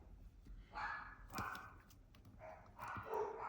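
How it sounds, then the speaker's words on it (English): Dogs bark in short, fairly distant yips and woofs, a few separate bursts over quiet room background. "And now are the dogs."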